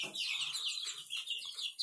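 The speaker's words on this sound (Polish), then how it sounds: "O, tutaj jest kogut." Chickens cluck softly with a rooster among them in a small backyard flock, a steady murmur of low clucks and higher calls, faint and somewhat distant, with no voices.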